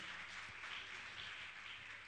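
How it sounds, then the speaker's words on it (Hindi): Audience applause at a Jain religious gathering honouring named donors, a steady dense wash of many hands clapping, moderately distant and fairly quiet, continuing evenly throughout. "जोरदार ताली बजाकर इनका सम्मान करें"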